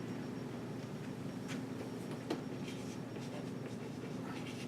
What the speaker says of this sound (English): if I had a decent piece of chalk, I could write this out